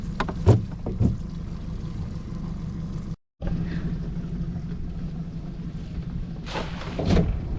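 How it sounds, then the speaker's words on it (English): A fishing boat's motor drones steadily across the water on a windy day, with wind buffeting and a few louder water thumps near the start and end; no speech. "Boat's going like a dream, even though she hasn't been started in 5 weeks."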